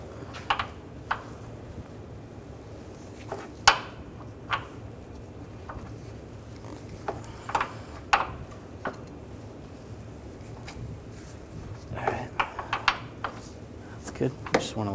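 A ratchet with an 18mm socket works on a control arm bolt of a 2009–2010 BMW 535i xDrive, giving scattered sharp clicks and short bursts of rapid ticking close by. Someone talks in between the bursts.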